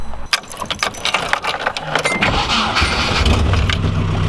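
A Nissan 240SX engine starts and settles into a low, steady idle nearby, with some clinking and handling noises early on.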